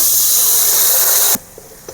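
Water poured into frying cumin, chili and turmeric powders sets off a loud, harsh hiss that stops abruptly, leaving a quiet background with a few faint clicks.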